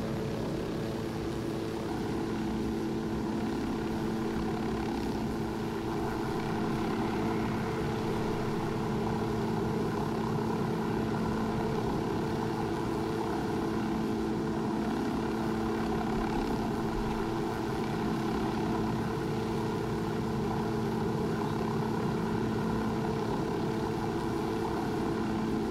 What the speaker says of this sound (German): Wir fliegen übrigens gerade ganz normal, also ich habe den Helikopter nicht beschleunigt. Das ist der normale Flug, den die Kiste hat.